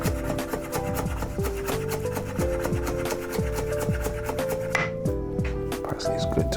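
A knife chops greens such as parsley finely on a board, a rapid and steady run of close, crisp taps with no one speaking.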